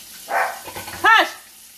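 A dog barks in the background of a home kitchen during breakfast cooking, two sharp barks about a second apart, fairly close and loud against quiet room tone.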